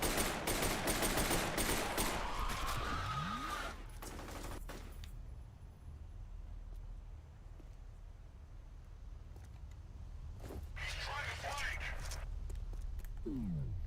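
Gunfire from the shooter video game F.E.A.R., with bursts of loud shots early on and another burst near the end, set against steady low game ambience and someone talking throughout.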